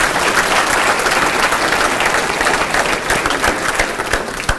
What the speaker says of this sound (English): a big round of applause to all of our Hall of Fame inductees tonight